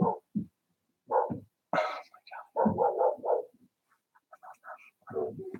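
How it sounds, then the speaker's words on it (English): Several dogs bark in short, loud bursts close by, a sharp volley at the start, a cluster in the middle and more near the end, with quiet gaps between them. "Enough of the freaking dogs."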